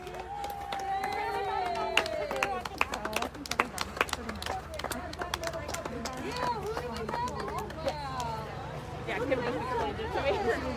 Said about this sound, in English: they're being welcomed by a nice, warm crowd